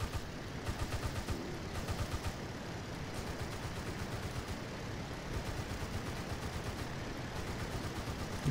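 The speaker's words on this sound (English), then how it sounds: "He's shooting at somebody though." Machine-gun fire from a WWI Breguet aircraft in the Rise of Flight game, heard as rapid rattling bursts over a constant engine drone, moderately loud and continuous.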